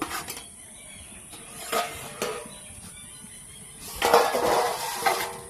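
A metal lid comes off a pot of boiling eggs with a few sharp clanks and clinks, spaced out against a quiet background, then a louder rattle of pot and lid near the end.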